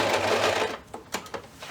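Sewing machine stitching a quilt table runner, a fast, loud, steady whir of stitching that stops partway through, followed by a few soft clicks and taps.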